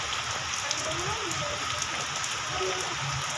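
Heavy monsoon rain pours outside a house in Mayurbhanj on the third straight day of downpour, a dense, even hiss with scattered drips on surfaces, steady and unbroken with no talk.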